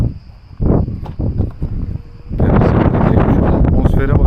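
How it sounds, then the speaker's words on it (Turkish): Strong gusts buffet a microphone at an exposed mountain peak, rumbling in uneven surges that swell into a loud steady roar, with a few bumps and rustles mixed in. "Mükemmel bir rüzgar esiyor"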